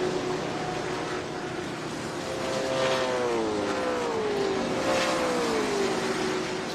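Trans Am TA2 race car climbing the hill at Road America, a sustained engine whine rising and falling in pitch through gear changes, fairly distant, over constant track ambience.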